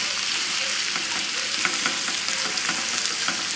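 Raw turkey and spinach sauté in a pan over a high flame, giving a loud, continuous hiss and crackle with small bursts of spattering and no voices.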